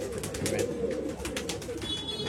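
Pigeons coo softly and repeatedly at a pigeon sale in Bangalore, a steady low burble of several birds close by with some faint background bustle.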